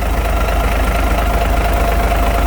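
A Caterpillar 3406B diesel engine with newly changed belts, freshly started, runs at a steady, loud idle with a low throbbing rumble and a rhythmic knock from start to end.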